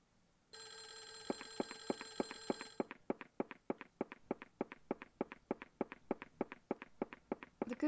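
Telephone in the horror game Clock Tower: The First Fear, a sustained electronic bell tone for a couple of seconds, then a long run of evenly spaced sharp ticking pulses, fairly faint with no talk.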